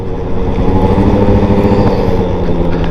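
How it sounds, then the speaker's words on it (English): A small motorcycle engine runs steadily at close range, a loud continuous buzzing drone with slight pulses and no clear rise in pitch, and no talking. "I gotta say, I love this little bike."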